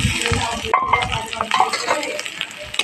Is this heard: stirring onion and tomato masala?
yes